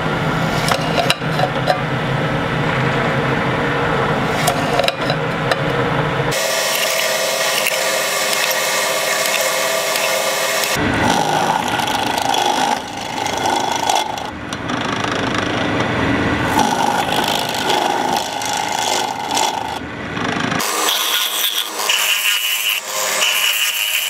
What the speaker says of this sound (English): that's all the holes drilled, and as you could see, that stepped drill bit makes short work of it